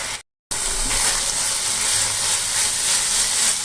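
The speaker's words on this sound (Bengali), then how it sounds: "ততক্ষণ আমরা এটা নেড়ে নেব এইভাবে" Nolen gur and coconut mixture stirred in a pan, a steady loud hissing sizzle after a brief gap of silence, continuous and close.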